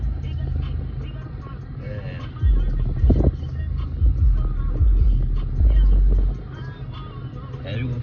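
2020 Dodge Charger 392 Hemi Scat Pack pulls away with a deep engine rumble from inside the car, rising in bursts and settling, while someone talks over it.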